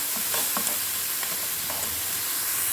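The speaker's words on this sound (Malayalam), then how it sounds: "ഇനി ഇതൊന്ന് ഇളക്കി ഒന്ന് വഴറ്റിയെടുക്കാം." Onions with salt stirred and sautéed in a pan, a steady close sizzle of frying with repeated scraping stir strokes throughout, no voices.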